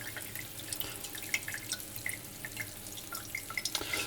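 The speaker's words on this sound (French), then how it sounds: "on peut le mettre avec une passoire au-dessus d'un récipient" Hot cooking oil from making a Spanish onion tortilla drains through a strainer into a container, giving a steady trickle with scattered close drips and light splashes, no talk.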